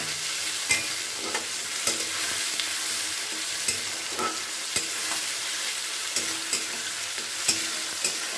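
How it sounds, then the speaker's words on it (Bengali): Onion and tomato frying in a pan for a tilapia fish curry, a steady close sizzle broken by repeated scraping clicks of a spoon stirring through the mixture, with no talk. "এটাকে একটু কিছুক্ষণ নাড়াচাড়া করে নেবো খুব ভালো করে যাতে টমেটোটা একটু ভালো করে সেদ্ধ হয়ে যায় আর পেঁয়াজটা একটু ভাজা ভাজা হয়ে যায়"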